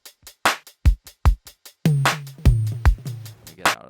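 A programmed hip-hop drum beat plays alone: sharp snappy hits and booming low kicks in a syncopated pattern with a ringing tone in the second half.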